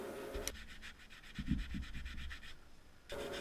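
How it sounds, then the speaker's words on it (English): A plastic blade scrapes old RTV sealant off a BMW E46/E39 engine block in a steady run of close, rhythmic rasping strokes, with a few low knocks partway through. "I am using here a plastic blade to remove the old RTV"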